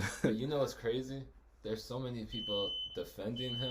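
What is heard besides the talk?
random electronic beeping noise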